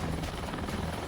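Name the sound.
rescue helicopter coming down to land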